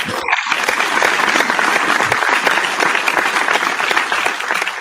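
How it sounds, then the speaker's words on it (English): A short round of clapping on a beer-sharing show, a few people applauding close together at steady, fairly loud level after a brief pause at the start. "Got to do a little round of applause."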